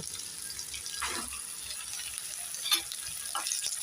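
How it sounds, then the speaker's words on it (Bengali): Boiled, well-drained taro leaves go into a pan for a vegetarian Bengali kochu shak with chickpeas, giving a soft continuous sizzle with light scraping and rustling as they are stirred. "এবার দিয়ে দেব সেদ্ধ করা কচু শাক জলগুলো ভালো করে ঝরিয়ে নিয়েছি এটা দিয়ে দেব"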